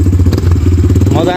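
A Kayo T2 motorcycle engine runs loud and close as the bike pulls away, with a steady rumble and a rising tone near the end.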